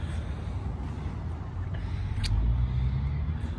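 A 2022 Ram 3500 Tradesman with a Cummins diesel engine rumbles steadily and low, the drone swelling slightly louder toward the end, with no talking over it.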